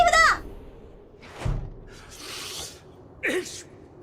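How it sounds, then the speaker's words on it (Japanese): A single short sneeze from a character in the video game Metal Gear Solid 2, heard as one brief burst of breathy noise amid other game sounds and snippets of voice. "くしゃみした。"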